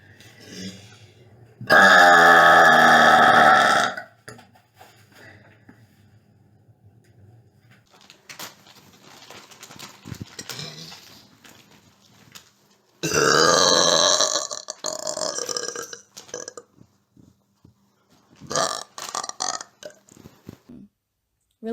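A woman lets out several long, very loud burps, each lasting a couple of seconds with deep rattling tones. They come in separate bursts, with quiet stretches and brief talk between them.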